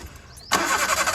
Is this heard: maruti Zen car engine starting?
yes